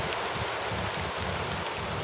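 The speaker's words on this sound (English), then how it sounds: "Now we're getting more and more rain" Steady outdoor rain falling, a dense, even hiss without pauses or voices.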